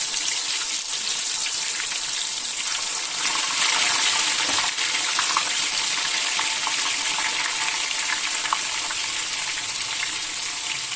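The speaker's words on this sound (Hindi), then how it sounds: "वारी वारी जनाब मछली में फ्राई कर लेते हैं" Fish from the Jhelum River sizzles steadily in hot oil in a pan over a low-to-medium flame, a continuous close hiss with scattered crackles and pops.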